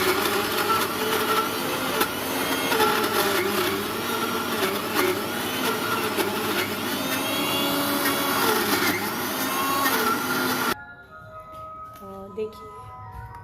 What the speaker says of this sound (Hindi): तो ये मैंने मिक्सर जार लिया